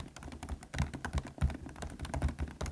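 Fast typing on a low-noise gaming keyboard, soft muted keystrokes in quick irregular bursts, close up and fairly quiet, with no talk.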